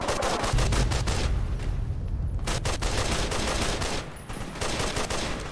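Rapid gunfire from the video game Fallout New Vegas, dense bursts of shots crackling continuously with no pauses, loud and busy across the whole stretch.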